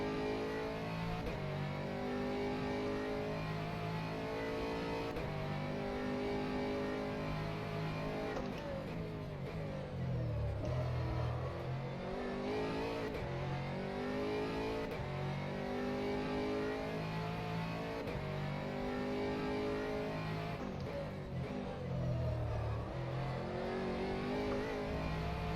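An Aston Martin Vantage GT3 race car lapping Sebring in a racing game, the engine droning loud and steady, dipping on downshifts and braking, then climbing again through each gear.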